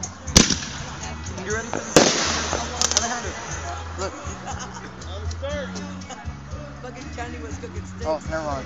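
Backyard fireworks going off, with sharp loud bangs near the start and scattered crackles and pops throughout, while voices and laughter carry on nearby.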